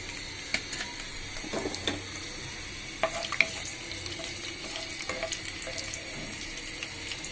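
Crushed green cardamom hitting hot soybean oil, a steady bright frying crackle with scattered sharp pops throughout, no voices.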